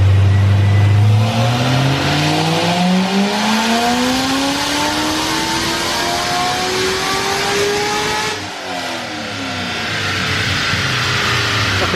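A Chevrolet Corvette C6 ZR1 with an aftermarket air filter revs hard on a dynamometer, a loud sustained engine roar climbing steadily in pitch through the gears before a brief dip and renewed pull, no voices.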